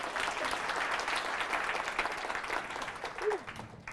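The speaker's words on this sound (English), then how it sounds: "thunderous applause, big clap, there we go" Applause from a Pydata London conference audience, a steady dense clatter of many hands at moderate volume that holds for a few seconds before easing off, with a brief voice near the end.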